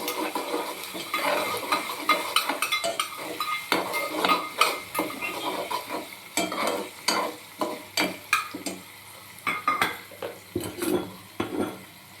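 Thinly cut vermicelli fries in a pan until golden, with a soft sizzle under repeated spatula scrapes and metallic clinks against the pan, close and uneven in rhythm, no voices.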